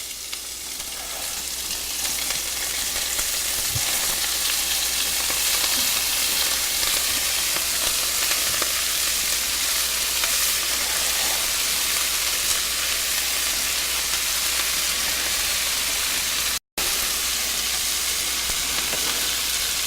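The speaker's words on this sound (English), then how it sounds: "So I'm gonna go right into this pan with my red cabbage." Red cabbage sizzles in a hot pan alongside a swordfish dish, a loud, steady hiss with faint crackles that runs throughout, broken only by a brief dropout near the end, with no talking.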